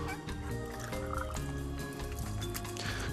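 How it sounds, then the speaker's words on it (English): Boiled potatoes drain into a kitchen sink, a continuous rush and splatter of pouring water with dripping and gurgling throughout, close and fairly steady. "going to put these potatoes in here and drain them"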